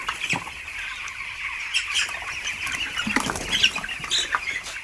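Broiler chicks in a poultry shed of about 1300 birds flap their wings in soft, fluttering bursts over a constant high chorus of peeping, with occasional faint clucks.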